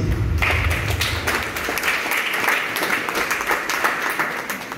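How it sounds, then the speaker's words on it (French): An audience at a diocesan council gathering in Togo applauds in a steady, sustained burst of clapping from many hands, filling the room without any talk over it. "le révérend pasteur Bilal Akane Adebou, que je prie de l'applaudir."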